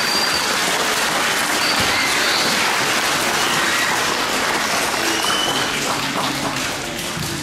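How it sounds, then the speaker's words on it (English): Audience at a Veterans Day ceremony applauds in a thick, continuous roar of many hands clapping, loud and unbroken for over seven seconds before tapering slightly at the close. "Can you give everybody a round of applause?"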